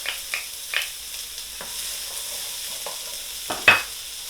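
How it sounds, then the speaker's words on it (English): Chilies frying in a wok for a tofu and broccoli stir fry, with a few short sizzling bursts and stirring scrapes spread over a quiet background, the loudest flare near the end. "Now we're frying the chilies"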